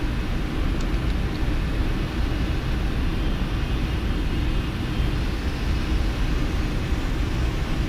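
Boeing 747 engines in a flight simulator game, heard as a steady, loud, full-bodied roar that holds an even level with no pauses and no talking.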